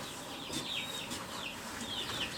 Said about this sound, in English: And these are our chickens.